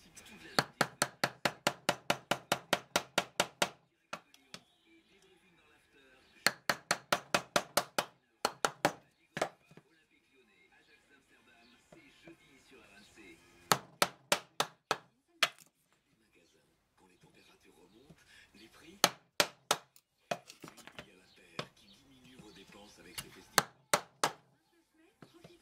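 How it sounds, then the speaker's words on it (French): Wood is chiseled with an 18 mm chisel struck by a mallet, giving rapid bursts of sharp, close knocks, often a dozen or more in a row, separated by pauses in which someone talks. "Donc je prends un ciseau de 18 mm, on peut prendre plus grand, plus petit, suivant les entailles qu'on a fait dans le bois."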